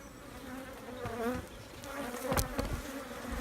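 A honeybee swarm buzzes at a swarm trap: a dense, continuous hum of many wings, with a few individual bees zipping close past.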